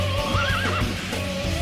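A horse whinnies in a rising and falling wavering cry over a low rumbling background, loud and close in an animated fantasy battle scene, with no talking.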